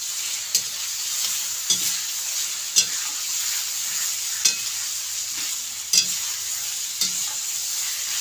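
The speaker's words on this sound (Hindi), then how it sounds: "अब जो हम पत्ता डालेंगे, हम खूब अच्छे से अकोल लेंगे" Arbi (taro) leaves are stirred and fried with browned onion in a pan: a continuous hissing sizzle punctuated by regular scraping strokes of a spoon roughly every second, close and unaccompanied by talk.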